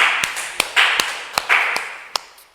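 A small group gives a few scattered claps, soft and fairly close, welcoming a data-science guest on a podcast, with short bursts of clapping separated by gaps.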